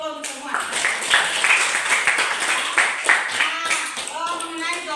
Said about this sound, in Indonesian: kasih aplaus dulu untuk semua